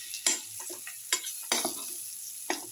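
Boiled eggs get stirred into a tomato and garlic mixture in a pan, several distinct spoon scrapes and taps at uneven intervals over a soft, faint frying hiss, close by.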